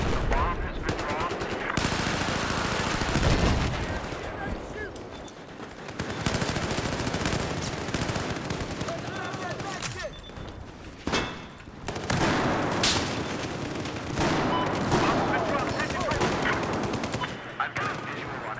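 Rapid automatic gunfire and scattered shots ring out in a Battlefield 4 Obliteration match, loud and dense, in sustained bursts with brief lulls, over game ambience.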